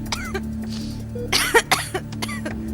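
Several sharp, close coughs and a throat clear in a Hindi audio drama, loud bursts in quick succession after a soft earlier cough, with no talk over them.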